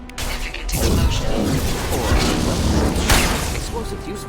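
Unstable crates exploding in the video game Mass Effect 2, a loud booming blast followed by rumbling, crashing debris and a second burst, with voices talking over the combat.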